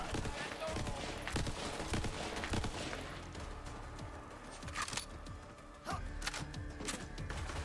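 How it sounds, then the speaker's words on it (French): A burst-fire weapon shoots in Borderlands 3, its repeated sharp volleys mixed into busy game sounds while a voice talks over the action. "Ah ouais, d'accord, une arme en rafale."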